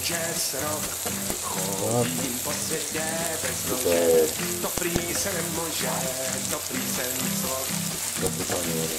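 Mushrooms frying in butter in a pan, a steady close sizzle running throughout while music with singing plays loudly over it.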